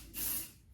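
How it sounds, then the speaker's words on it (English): One short, close hiss of setting spray misted onto a hairbrush, under a second long, soft and breathy. "I'm gonna spray my brush a little bit"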